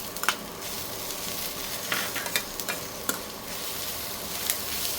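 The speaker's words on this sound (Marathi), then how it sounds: "कांदा आणि खोबरं आता मस्त भाजून झालेलं आहे" Onion and grated coconut dry-roast in a pan with a soft, steady, close sizzle, broken by occasional sharp scrapes of a stirring spoon, and no voices.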